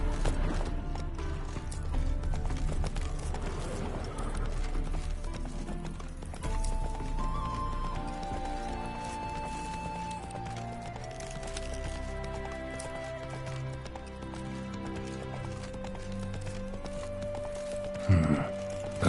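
Roach, the horse in Witcher 3, gallops in a steady drumming run of hoofbeats with a whinny and a soft musical score underneath, and a sharper burst comes near the end.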